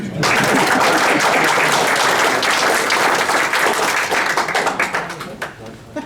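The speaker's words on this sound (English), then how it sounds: "You may now applaud." Audience applause at a model rocket manufacturers forum, steady dense clapping from a crowd that holds loud for several seconds, then thins and tapers off near the end.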